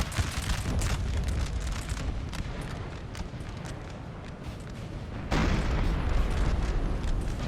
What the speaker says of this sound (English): Still throwing canister.